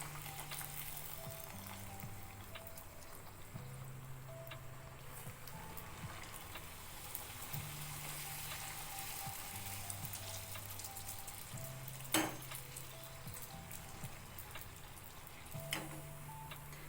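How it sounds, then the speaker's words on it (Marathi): Puris for pani puri fry in oil over a low flame, giving a faint, steady bubbling sizzle with occasional small ticks and pops, quiet and continuous with no talking. "कमी गॅसवरच तळायचं."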